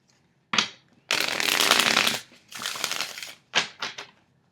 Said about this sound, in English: So the shuffle, it shuffles well.